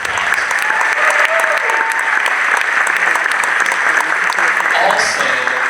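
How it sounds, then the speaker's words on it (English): Loud, dense applause from a crowd of parents and members at a school information meeting, sustained evenly for several seconds, with a few voices and cheers mixed in near the end. "Can we please give them a huge round of applause?"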